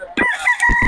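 A Sweater-Hatch mix gamefowl rooster lets out one short, close crow, loud and harsh, ending in a couple of brief clucking bursts.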